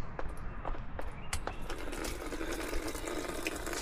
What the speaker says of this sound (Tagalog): Dito naman, pwede kang kuha ng tubig pag gusto mo.